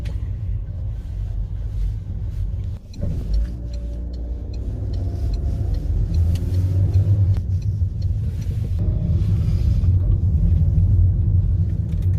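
A car drives steadily along a road, its low engine and tyre rumble continuous and close throughout, with the tone shifting slightly partway through as the vehicle manoeuvres.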